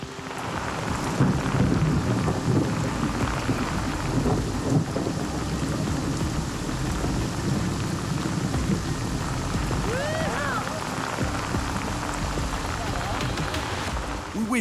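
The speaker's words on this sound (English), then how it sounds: "We wait for the rain to stop so Andre can finish setting up his rig." A thunderstorm pours heavy rain onto open water in a steady, loud hiss, with low thunder rumbling underneath and a faint voice briefly surfacing partway through.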